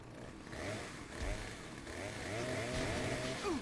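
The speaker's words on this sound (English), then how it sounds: "Will you let her up so I can chainsaw her again?" In Saints Row, a video game chainsaw revs and buzzes in rising and falling bursts with a sweeping whine, fairly quiet, alongside other game noise.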